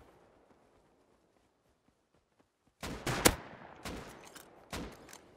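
Gunfire in the game Rust erupts after a near-silent stretch, with a dense burst of loud rapid shots followed by a couple of shorter volleys, some sounding near and sharp.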